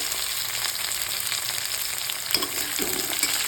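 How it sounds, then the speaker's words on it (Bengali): Chopped tomato dropped into hot oil with reddened onions in a pan, a continuous close sizzle with a couple of soft stirring knocks near the end. "আর এখন আমি দিয়ে দেব কেটে রাখা টমেটো"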